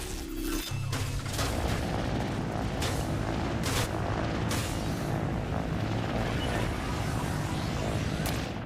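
Loud, continuous helicopter rotor noise from the video game Trailmakers, with booming impacts and bursts of gunfire layered throughout.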